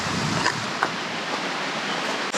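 A creek flowing along a muddy hiking trail among Arkansas waterfalls, heard as a steady, close broadband rush of moving water with no talk.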